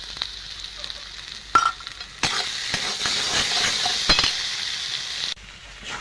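Ground cumin and garam masala fry and sizzle in ghee while being stirred, a bright steady hiss with scraping and clattering bursts, close and loud without speech.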